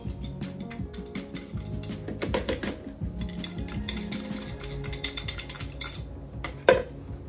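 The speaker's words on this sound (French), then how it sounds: "je commence à mélanger ma pâte" A utensil works dough in a bowl, ahead of adding margarine or butter, with irregular scraping, clinking and tapping against the bowl and one sharper knock near the end.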